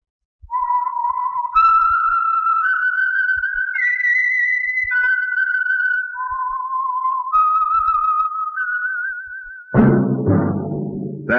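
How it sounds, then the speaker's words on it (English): The signature whistled theme of the 1949 radio drama The Whistler plays alone, holding clear pitched notes that step up and down in a slow phrase, ending in a brief burst of sound. "That whistle is your signal."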